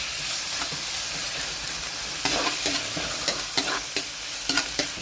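Garlic and onion sizzling in a pan while being sautéed for a bulanglang vegetable dish, with a steady frying hiss and irregular stirring scrapes that grow more frequent in the second half.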